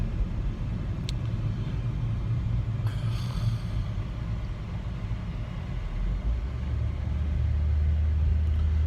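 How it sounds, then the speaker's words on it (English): A car stopping in the middle of the road outside, heard as a continuous low engine rumble with faint tire and road noise, steady and somewhat distant, with a brief higher clatter partway through and no talk. "car was stopping in the middle of the road"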